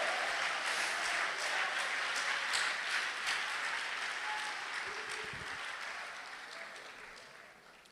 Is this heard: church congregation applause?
yes